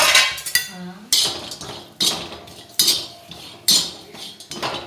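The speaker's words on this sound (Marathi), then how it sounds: "खोबरं भाजून घेते" Dried coconut roasting in a metal pan is stirred briskly, with loud, close scraping and clinking strokes repeating about every second over a low background rustle.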